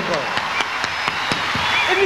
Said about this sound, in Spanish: Y un gran, gran aplauso a Antonio Bodano.